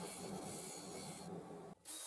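Quiet, steady scraping of a detail gouge against a turning laminated wood bowl on a lathe, with a hissy, rasping texture, cutting off abruptly near the end.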